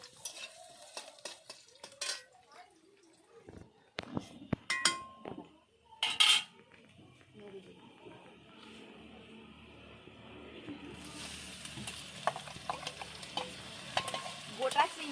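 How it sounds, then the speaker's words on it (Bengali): Prawns and vegetables are stirred in a frying pan: scattered metal scrapes and clatters of a utensil, then a steady close sizzle that grows louder and fills the last few seconds. "ওই কড়ার মধ্যে চিংড়ি মাছটা একেবারে দিয়ে দেবো তারপরে হচ্ছে সবজিগুলো দিয়ে নেড়ে দেবো"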